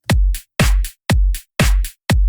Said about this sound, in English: I did create a little drum loop just for reference, and it sounds like this.